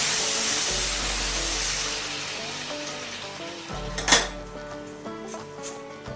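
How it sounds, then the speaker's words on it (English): Water poured into a pot of rice for Narali Pournima recipes, a steady hissing, splashing pour that fades, then a sharp clink of metal on the pot and softer rattles nearby. "So at this point I'm going to add it into our rice"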